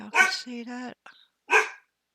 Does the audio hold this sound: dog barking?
yes